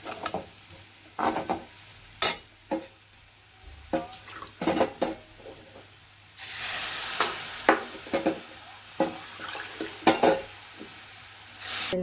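Semolina and sugar for sheera stirred in a pan over low heat, with irregular scraping strokes and a brief louder sizzling burst midway, close-up and without talk.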